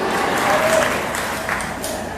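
An audience at a city address applauds and cheers for Middleton High School, a dense burst of clapping throughout with a few louder cheers rising above it.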